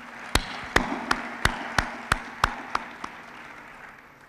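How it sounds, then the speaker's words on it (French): Slow, evenly spaced claps ring out at a political party gathering, about nine crisp hand strikes in a steady rhythm that gradually soften and die away, with little else beneath them. "Il mérite un peu d'applaudissements, je crois"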